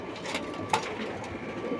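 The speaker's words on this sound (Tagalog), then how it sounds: "Dami mga kalapatids" Pigeons coo softly inside a racing pigeon loft in Qatif, Saudi Arabia, a low murmuring flock sound with one brief sharper call.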